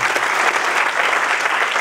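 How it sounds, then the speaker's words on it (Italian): An audience applauds a speaker being welcomed at a local political list presentation, with steady, dense clapping that carries evenly throughout. "Io direi di partire subito e di accogliere con un applauso Stefano Alberici."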